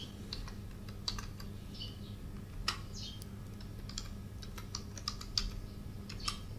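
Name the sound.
typing on a computer keyboard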